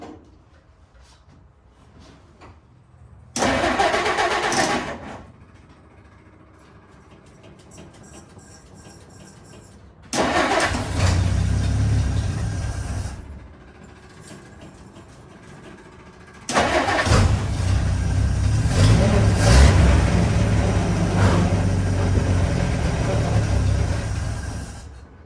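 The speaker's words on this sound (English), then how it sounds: "we're going to start her up" A 1952 Dodge Wayfarer engine cranks and catches in three loud bursts separated by quiet pauses, the last settling into a rough, sustained idle close by, with voices talking between attempts.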